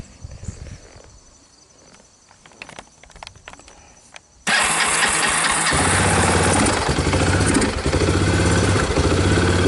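A Kawasaki Lakota ATV, once lacking spark and now fitted with a replacement knockoff CDI, starts up after several seconds of quiet clicks and handling noise, then runs loud and steady at close range.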